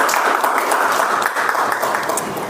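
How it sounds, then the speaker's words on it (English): Dense, steady applause from the audience at a Toastmasters club meeting, fairly loud and unbroken for a couple of seconds with no voices over it. "Let's give a big round of applause"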